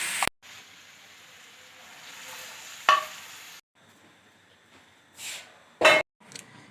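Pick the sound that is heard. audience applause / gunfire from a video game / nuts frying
nuts frying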